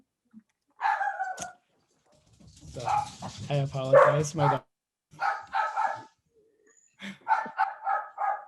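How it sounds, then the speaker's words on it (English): Small dogs bark in short bursts at home, several sharp yips and woofs separated by pauses, fairly close, with a person talking around them. "Those are my dogs letting you all know that they haven't gotten pets from me today."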